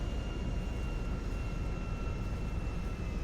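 A jet plane's engine in GTA 5 roars as a steady, loud, unbroken drone with a faint high whine running throughout.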